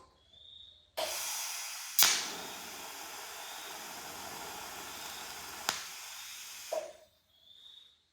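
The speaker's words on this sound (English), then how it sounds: "we've welded out that bottom assembly on the tractor with the TIG" TIG welding on the bottom assembly of a custom seat mount for a Kubota B7100 tractor, a steady close hiss with sharp pops where the arc strikes and breaks, running for several seconds between quiet pauses.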